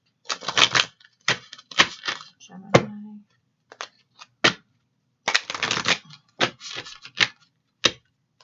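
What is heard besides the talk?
tarot cards being shuffled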